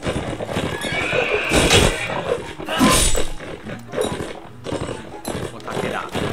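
Several horses neigh and whinny loudly during a samurai battle in the Mount & Blade Gekkokujo mod, with clip-clopping hooves and combat noise around them.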